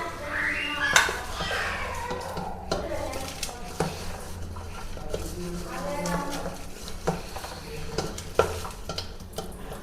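Paneer is tossed and stirred by hand in a bowl with a dry corn flour coating, giving soft irregular scraping and rustling close by, with a few clicks of the bowl and faint background noise.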